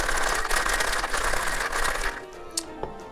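Ice rattles hard inside a cocktail shaker as a rum drink is shaken, a loud continuous churning clatter for about two seconds before it stops and a few small clinks follow.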